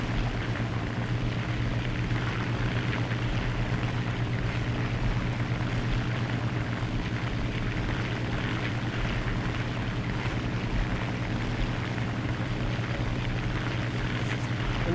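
A propeller plane's engine drones steadily and evenly for about fifteen seconds during a combat video game match, with no one speaking.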